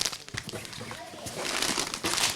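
A plastic bag of rice from a food aid parcel crinkles and rustles close by in short bursts, with faint talking in the background.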